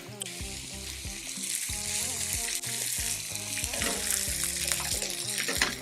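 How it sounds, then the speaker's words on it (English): Beef strip loin sears in a very hot pan, giving a steady, close sizzle and crackle that runs continuously under background music. "Make sure your pan is nice and hot and you get that lovely sear."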